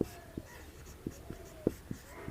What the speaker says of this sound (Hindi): यहाँ लिखेंगे x का मान